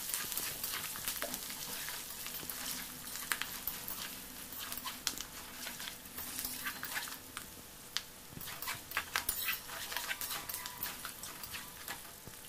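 Green chilli, red chilli and curry leaves fry in hot oil for tamarind rice, a quiet, steady crackling sizzle with scattered pops and light patter throughout.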